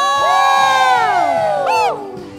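A church congregation at a healing service shouts and cheers together, loud overlapping whoops and raised voices swelling for about two seconds, then easing off.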